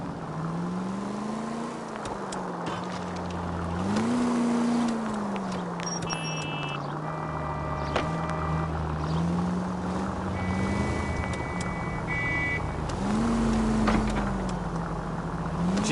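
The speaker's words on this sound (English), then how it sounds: "Now would be a bad time to forget how to drive, Cole." Car driven in the video game L.A. Noire on PS5, with a steady engine drone that rises and falls as it revs and shifts, mixed with road rumble and scattered game effects, continuous and fairly loud throughout.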